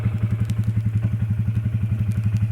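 A frozen Husqvarna motorcycle engine in the cold churns rhythmically without catching, giving a steady run of low, regular thumps up close for the whole stretch, with no voices.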